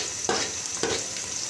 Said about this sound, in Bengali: এখানে চুলায় দিয়েছি আমি পেঁয়াজ, এলাচ, দারচিনি একটু ভাজা ভাজা করবো।